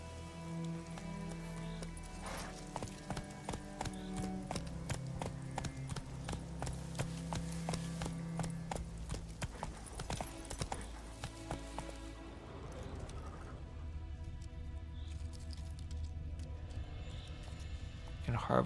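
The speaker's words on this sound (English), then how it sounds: "Come on, Roach. You can't harvest things when you're on horseback." Roach, Geralt's horse in The Witcher 3, gallops with steady clip-clop hoofbeats under rain and game music, with someone talking over it now and then.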